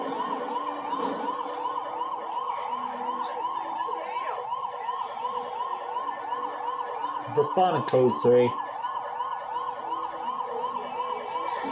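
A fire truck siren in GTA 5 wails continuously, rising and falling, with a brief burst of a voice over a radio partway through.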